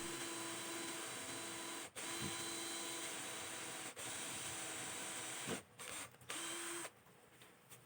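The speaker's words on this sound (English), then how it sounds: "I'm first using a drill bit for wood to bore a hole all the way through." A drill fitted with a wood bit bores through a sheet of plywood, giving a steady, loud whirring drone with a few brief stops and restarts near the end.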